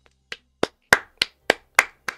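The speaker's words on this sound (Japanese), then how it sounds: "拍手だね。" Hands clapping in a steady, spaced series of seven or eight sharp, close claps, each with a brief ring-off, clear and alone with no talk.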